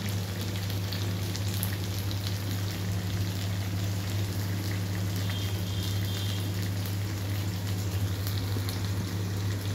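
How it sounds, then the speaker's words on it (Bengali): Rice boiling in a pot on a home stove, a steady continuous bubbling hiss over a constant low hum, unbroken and even throughout. "ওপাশে ভাতটা ফুটছে"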